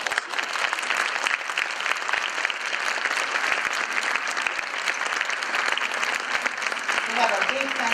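An audience at a fashion show applauds the models with steady, dense clapping that runs loud and unbroken throughout, with a few faint voices underneath.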